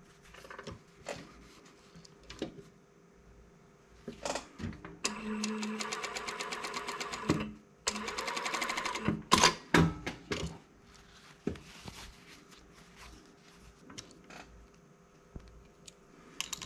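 A sewing machine stitches a zipper seam on a garment in short bursts of rapid mechanical whirring, separated by pauses with small clicks and handling noises, close and fairly loud.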